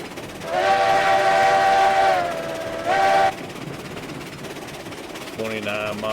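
Locomotive in the video game RailRoads Online with a steam-style whistle, two long blasts then a shorter one, over a steady running rumble.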